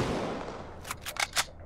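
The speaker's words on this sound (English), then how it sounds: "Okay, they have a fucking machine gun." Machine gun fire in the pirate-attack survival game Sunkenland, a rapid burst of four or five sharp shots after a low rumble, close and fairly loud.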